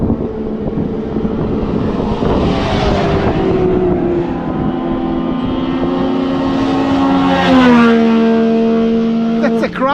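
A radio-controlled car's motor screams at high speed, a loud, close whine whose pitch climbs, holds and sweeps up and down across the run without a break.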